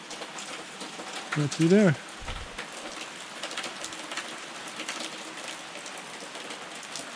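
Steady rain falls outdoors, a dense constant patter with a few bird coos and a short spoken phrase near the start.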